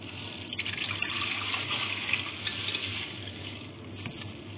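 Half a kilo of milk pours steadily into a pot in a home kitchen, a continuous close liquid splashing and gushing that runs unbroken with no talk.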